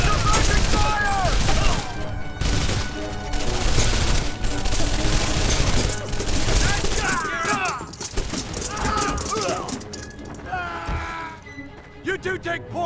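Sustained suppressing gunfire in the World War II shooter Medal of Honor: Vanguard, with dense rapid bursts and booms throughout under shouted soldier voices and battle clamor, thinning slightly toward the end.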